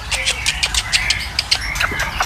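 A golden pentet shrike sings in a series of short bright chirps and whistled notes, repeated in quick bursts at close range over low background rumble and faint voices.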